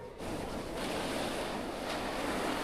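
Sea waves wash onto the beach at Fisherganj, Bakkhali, in a steady, close roar of surf mixed with wind buffeting the microphone, continuous throughout with no talk.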